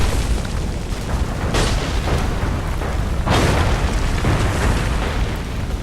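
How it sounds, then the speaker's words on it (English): Cannonball explosions in the video game Assassin's Creed 3 boom in a continuous, rumbling barrage, with a few heavier bursts standing out from the loud, dense roar. "The cannonballs just spawn like mid-air right next to you to try and hit you"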